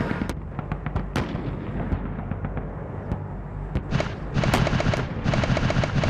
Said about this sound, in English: Both IFVs tear the position apart with their Bushmaster M242 cannons.